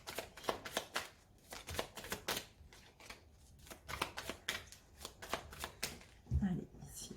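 Tarot cards shuffled and cut by hand, a steady run of crisp riffling flutters and soft slaps close by, ending in a firmer thump as the deck is set down.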